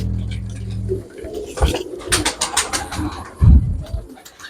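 Pigeons cooing at close range, several soft throaty coos and low rolling calls in quick succession, with faint rustling around them.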